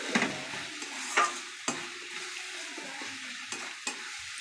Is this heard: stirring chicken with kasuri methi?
yes